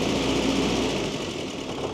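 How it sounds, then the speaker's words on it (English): A Series 3 Land Rover engine idles too fast with very little fuel in the tank, giving a steady, close, continuous mechanical drone with no breaks. "It sounds like the idle's probably running a little bit high"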